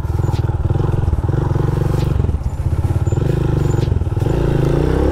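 A carbureted motorcycle engine idles and blips its throttle in a low, loud, pulsing putter during a slow U-turn, with a light clatter over the exhaust.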